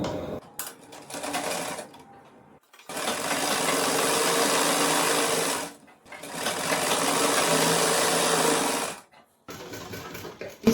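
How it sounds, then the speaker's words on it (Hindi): Sewing machine running three long bursts while stitching a half-inch seam on a rectangular winter poncho top, loud and close, with brief pauses between runs and no talk. "हाफ इंच की सिलाई हम यहाँ पे लगाएंगे"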